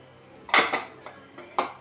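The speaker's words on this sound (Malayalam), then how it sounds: "നമുക്ക് ആദ്യം ഒരു പാൻ അടുപ്പത്ത് വെച്ചിട്ട് ഗ്യാസ് കത്തിക്കാം" Metal pan set down on a gas stove in a home kitchen while making chicken tikka masala, giving a few sharp clanks and a scrape, then one more clank, close and fairly loud.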